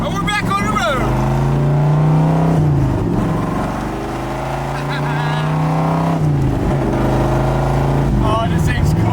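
A 427 big-block Corvette engine rumbles loudly from inside the cabin, its pitch rising and falling through gear changes, with a voice talking over it.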